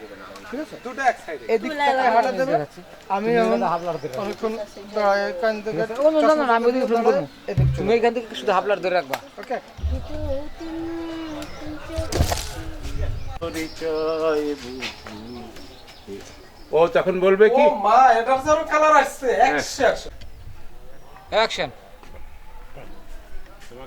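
Pigeons coo among people talking and laughing on a busy video-shoot set; the bird calls are intermittent and partly buried beneath the steady, near voices.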